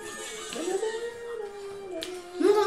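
A dog whimpers and whines in a drawn-out, wavering tone that dips and rises, then ends in a louder yelp-like cry, with game music faintly behind.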